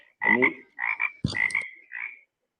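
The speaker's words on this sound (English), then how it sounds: "frog also started making sound early in the morning" A frog croaks in four short, loud bursts separated by brief pauses, close by and with no other sound around it.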